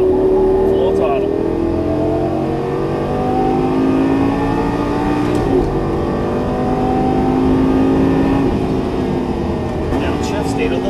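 A Lamborghini Gallardo LP550-2 engine at full throttle on a track, a loud, sustained roar with rising and falling pitch through the run, with a voice talking over it.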